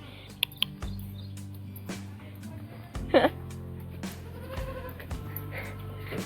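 A sheep lets out a short, wavering bleat near the middle, amid quiet background noise, soft clicks and bits of distant talk.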